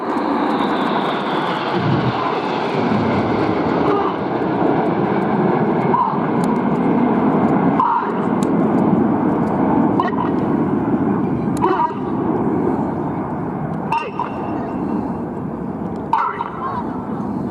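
RAF Red Arrows display jets breaking formation at Athens Flying Week produce a continuous airborne jet roar, while a commentator talks over it throughout with regular short pauses.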